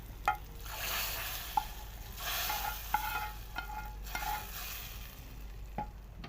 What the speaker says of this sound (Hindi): अब दाल को हम तड़का लगाएंगे